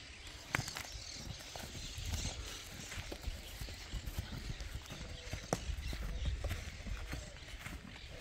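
Clip-clop of a gentle dun-colored ranch horse's hooves as it shifts its feet while being saddled and cinched, irregular knocks at moderate distance over a low outdoor rumble, with an occasional faint nicker.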